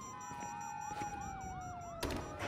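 A police siren in the video game GTA V wails in steady rising and falling sweeps, fairly close and unbroken, with a sudden burst of harsh noise near the end.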